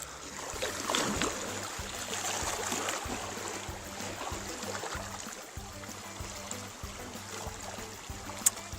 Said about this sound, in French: Profitez du bruit des vagues.